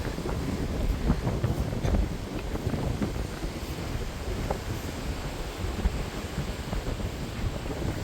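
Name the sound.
wind by the sea at Biarritz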